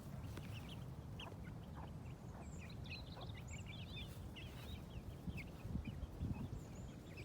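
Chickens and young fowl in a henhouse make a steady murmur of soft clucks and scattered higher chirps, with a constant low rustling bed of sound throughout.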